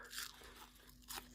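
Two crisp crunches of crunchy fried anchovies being chewed close up, separated by a short quiet pause.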